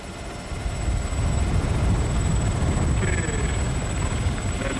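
A helicopter used for aerial photography flies close by, its rotor and engine producing a loud, continuous chopping roar with a steady high whine above it, heard alone without talk.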